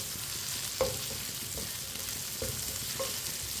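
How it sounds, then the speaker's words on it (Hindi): Bhindi (okra) fries in a pan with a steady soft sizzle while a spoon stirs through it, producing a few faint scraping knocks against the pan, close and quiet. "इसे ऐसे ही चम्मच चलाते हुए फ्राई करना है।"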